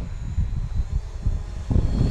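A DJI Mavic Pro drone flies past outdoors at its normal speed, its steady propeller whine and buzz rising and falling as it moves, with wind buffeting on the microphone.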